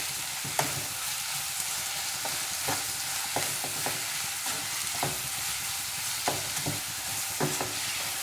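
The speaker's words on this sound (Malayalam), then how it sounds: "എല്ലാം കൂടി നന്നായിട്ടൊന്ന് ഇളക്കി കൊടുക്കാം" Onions sprinkled with salt sauté in a pan, with a continuous soft sizzle and regular scraping clicks as the spoon stirs them, close and steady with no voice.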